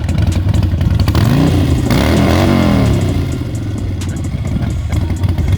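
A Harley-Davidson motorcycle engine after an oil and battery change runs loud and close, with a steady rumbling, clattering idle and a brief rev swelling in the middle.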